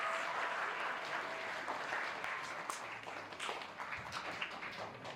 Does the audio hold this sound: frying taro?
no